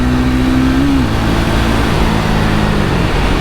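A 2024 Triumph Speed 400 motorcycle accelerates hard while overtaking, the engine note rising then dropping at a gear change, loud and close under heavy wind rush.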